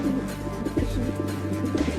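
Cartoon pigeons coo in low, soft, repeated throaty calls over a steady musical background, close and fairly quiet.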